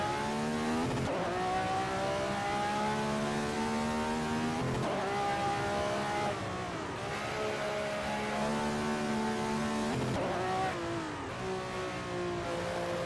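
A 1967 Ferrari 312/67 race car screams around the Nordschleife in the GPL racing game, its engine revving high, dropping through gear changes and climbing again in repeated sweeping surges, loud and continuous.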